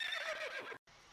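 A horse lets out a single close neigh that wavers and drops in pitch over most of a second, followed by a brief gap and faint background hiss.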